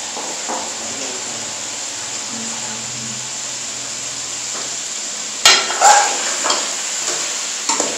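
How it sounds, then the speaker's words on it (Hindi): Tomatoes fry in oil over raised heat for a Peshawari chicken charsi karahi, a steady sizzling hiss with a few sharp clanks of a spoon against the pan partway through. "आग हमने थोड़ी तेज़ कर दी और टमाटरों को इसमें हमने छोड़ दिया।"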